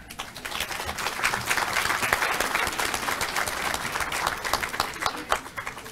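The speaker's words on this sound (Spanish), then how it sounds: "Le damos un fuerte aplauso." Sustained audience applause at a forum on child and adolescent sexual violence, a dense, steady wash of many hands clapping that swells slightly and holds for several seconds with no voices over it.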